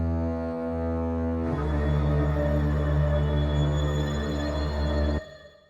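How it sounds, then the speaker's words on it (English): A film score passage of sustained strings and synth with a low double bass trill, a dense droning chord that swells after a quieter opening, holds steady and then cuts off abruptly. "So with both the strings and synth, it sounds like this."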